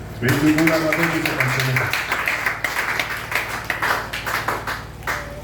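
Congregation clapping in church to acclaim the Lord: a steady, dense patter of many hands that runs through the whole stretch, with voices and singing tones heard underneath in the opening seconds.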